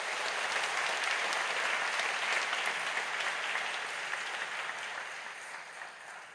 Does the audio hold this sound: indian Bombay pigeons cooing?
no